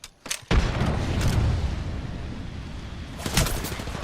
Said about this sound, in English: Oh god, the frag.